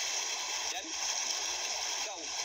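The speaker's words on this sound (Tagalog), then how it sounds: "Mahampas-hampas sa batuhan," Sea waves break against a rocky island shore, a continuous rushing, splashing wash with gurgling surges, close and fairly loud.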